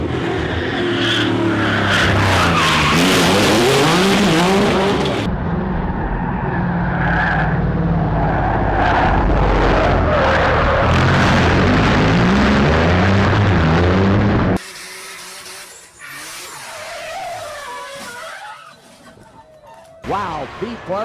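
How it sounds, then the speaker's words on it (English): A race car loops and slams hard into the wall during a motorsport event. Loud engine roar and tire screeching fill the first part, then a sudden cut to quieter, rougher crash and scraping noise, with commentary voices over much of it. "Pete Barber looped that baby and smacked the wall hard."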